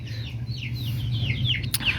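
Chickens clucking and calling in a series of short, rising vocal bursts over a steady low hum, fairly close, with no talking.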